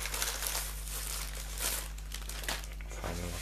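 A SpeedStacks mat rolled in paper is unwrapped, giving close, continuous paper crinkling and rustling with a few sharper crackles over low background hum.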